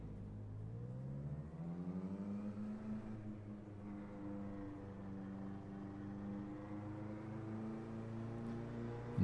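A damaged F3 race car engine in a multiplayer racing video game at Nürnberg, Germany, drones steadily with rising and falling harmonic pitch, a continuous mid-level hum with no talk.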